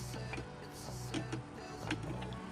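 A circular saw's blade lock clicks as the blade is turned while being changed with a socket and ratchet, with a string of faint, repeated ticking clicks over a low steady hum.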